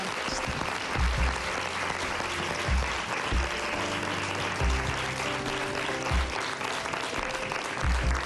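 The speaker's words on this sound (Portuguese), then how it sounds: "Um grande aplauso, muito obrigada." A television talk show studio audience applauds steadily throughout, a dense, continuous wash of clapping with a low, rhythmic musical undertone beneath it and no talking.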